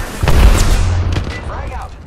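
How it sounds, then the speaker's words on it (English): An arc star grenade thrown in Apex Legends Arenas gives a loud burst with low booming thuds and crackling over the first second and a half, then a fainter electric whine trailing off. "Arcstar out."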